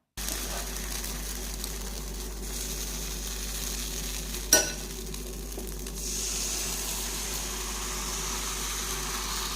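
Batter poured into a hot, oiled appam pan and swirled around, heard as a steady, even sizzling hiss that runs throughout at moderate level with one brief clack partway through.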